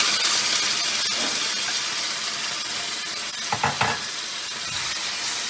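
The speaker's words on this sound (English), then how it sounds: "now we're going to fry up this chicken" Chicken frying and being stirred in a wok with soy sauce, garlic and ginger for fried rice, a steady close sizzle with scraping stir strokes and a brief burst of louder hissing partway through.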